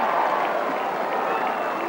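A rugby crowd at a Barrow versus Bradford cup match roars and applauds steadily after a successful penalty kick, a dense, continuous wash of cheering and clapping.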